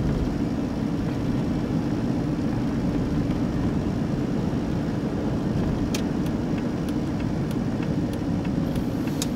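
Steady road and engine roar from a car driving along a road, a dense unbroken rumble that stays loud throughout, with a few faint ticks late on and no talk.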